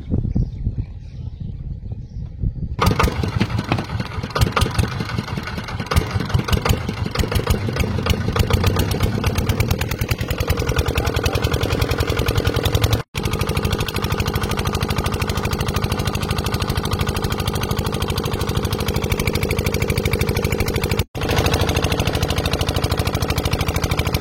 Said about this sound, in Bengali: এই যে আমাদের ঘাটের থেকে যন্ত্রচালিত নৌকা ছেড়ে দিলাম